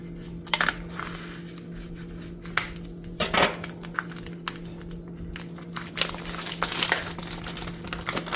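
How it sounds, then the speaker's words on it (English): Paper wrapping being cut and pulled off a ham with a knife in a kitchen: scattered crinkles, scrapes and sharp clicks over a low steady hum, with no speech. "we're going to cut that paper off"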